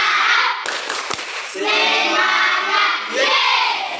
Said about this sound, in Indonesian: Oke, mari kita tepuk semangat dulu.